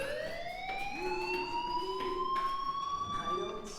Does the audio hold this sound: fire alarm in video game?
yes